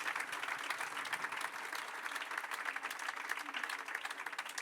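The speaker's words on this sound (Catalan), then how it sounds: "Un aplaudiment." Audience applause at a Celtic folk music concert at a guitar festival in Les Borges Blanques, steady dense clapping from a crowd filling the whole stretch with no voices over it.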